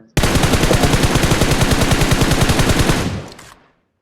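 Sustained automatic gunfire in a shooter video game, a rapid, loud, even burst of shots lasting about three seconds before cutting off and fading.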